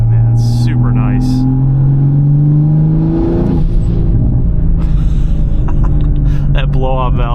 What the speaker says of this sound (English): That blow-off valve.